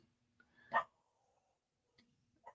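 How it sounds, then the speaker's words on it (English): One short dog bark sounds from a distance in a quiet room, followed later by a faint second yip. "my dog is barking"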